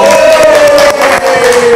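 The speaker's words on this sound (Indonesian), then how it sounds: "Tepuk tangan dong." Loud studio crowd on a late-night TV show cheers and claps in a dense wall of sound, with a sustained tone running through it.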